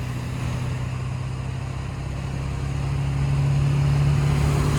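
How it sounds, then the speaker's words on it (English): A diesel truck engine running steadily with a low droning hum that grows slightly louder, heard close up with no talk. "Now for some diesel noises!"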